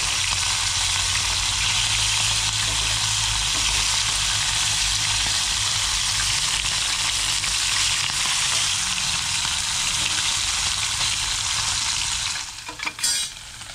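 Fish frying in a pan, a dense, loud, continuous crackling sizzle that holds steady for over twelve seconds and then drops off into a few clattering knocks at the end.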